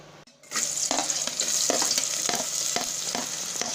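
About 50 ml of oil heats in a cooking vessel and breaks into a loud, steady close sizzle after a brief quiet start, crackling with repeated pops and spatters throughout, with no one talking.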